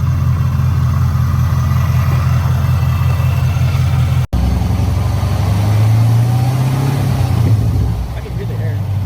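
A Camaro ZL1 with a newly installed lid idles with a steady low rumble, then revs up in a rising roar about halfway through before settling back; people talk over it.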